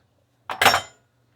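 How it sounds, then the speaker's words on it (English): A spoon giving a quick stir to a Dalmore 12 whisky cocktail in a glass, two bright close clinks in rapid succession, then silence. "I'm going to go ahead and give it a quick stir."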